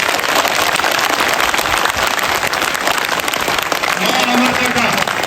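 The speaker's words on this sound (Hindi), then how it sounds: "एक बार जोरदार ताली अतिथियों के नाम।" Loud, steady applause from a school gathering on an environmental awareness tour, with clapping filling the whole stretch for the invited guests and a brief voice near the end.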